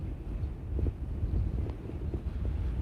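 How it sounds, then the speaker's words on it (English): Gusty wind buffets a handheld microphone beside choppy, rippling water on a very windy day, making a continuous low rumble and muffled flutter that fills the short stretch. "You could probably hear a little bit of wind coming through"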